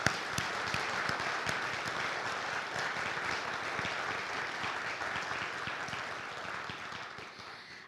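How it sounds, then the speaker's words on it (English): A crowd claps steadily in sustained applause, which gradually fades toward the end. "Let's give them a big round of applause."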